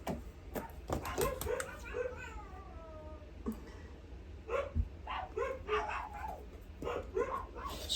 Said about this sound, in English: She's such a mouthy dog.